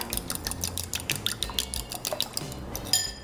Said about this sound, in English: And then I'm just gonna give that a quick little whisk.